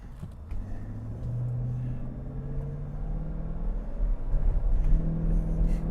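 A car driving with a bad motor mount gives a steady low engine rumble and road drone that swells slightly near the end, with no talk.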